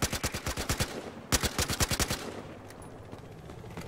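Automatic gunfire in the video game Battlefield Hardline: two rapid bursts of evenly spaced, punchy shots, close and loud, trailing off into a low rumble of game ambience.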